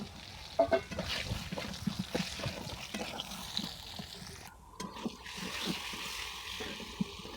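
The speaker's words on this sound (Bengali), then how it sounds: "সব কাটা পটল একইভাবে ভেজে নেব" Sliced pointed gourd (potol) frying in oil in a wok, a soft, fairly quiet sizzle with light stirring and occasional clinks, heard close with no talking.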